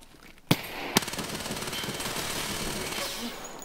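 Gunfire in the video game Escape From Tarkov: two sharp shots, then a sustained rapid automatic burst that rattles on steadily to the end, loud and close.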